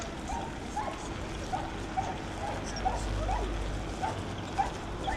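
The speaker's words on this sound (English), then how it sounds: "Very barky dog over this way." A dog barks repeatedly somewhere off to one side along a seafront path, the short yaps fairly faint and spaced out over steady outdoor wind and traffic noise.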